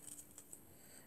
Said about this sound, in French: Là je vais venir couper comme ceci